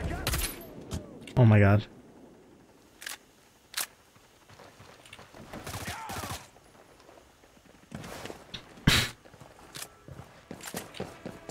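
Scattered gunshots in a shooter game, sharp isolated cracks spaced irregularly, some near and loud, others fainter, with a voice exclaiming briefly among them.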